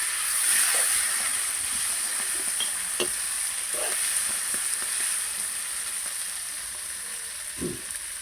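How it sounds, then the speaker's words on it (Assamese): Pork frying in a pan for an Assamese pork dish with potatoes and mustard greens, a steady close hiss and sizzle broken by scraping stirs and clinks of a utensil, with no talk. "মাংসটো ভাজি আছোঁ"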